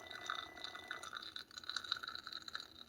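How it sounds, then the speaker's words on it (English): Ninja DualBrew single-serve coffee maker draining water from its tank, a faint, steady trickling and gurgling liquid sound with light dripping, quiet and close. "So right now it's draining water out of the tank."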